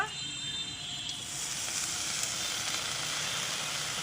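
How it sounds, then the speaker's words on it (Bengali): Leafy greens go into a hot pan to boil, giving a steady, fairly loud hiss and sizzle that swells slightly and then holds, close by and uninterrupted. "এখন এই যে শাকগুলো সিদ্ধ দিয়ে দেব"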